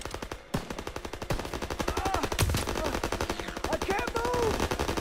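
Gunfire in Call of Duty WW2 crackles in rapid automatic bursts: a dense, evenly spaced stream of shots, with a sharper single crack standing out midway and faint in-game whistles and voices underneath.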